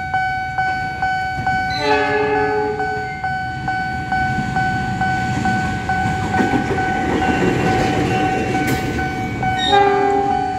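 A commuter train passes a busy level crossing at Pondok Jati station in Jakarta, its horn sounding in long bursts over rumbling wheels, while a crossing bell dings steadily throughout and a brief voice speaks.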